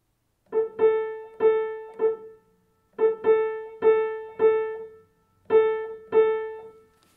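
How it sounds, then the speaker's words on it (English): Clear, tonal electronic beeps repeat in short groups with pauses between them, steady and alone, the Morse code identifier of a VOR radio beacon at Princess Juliana International Airport. "it's the Morse code of a VOR station at the Princess Juliana International Airport"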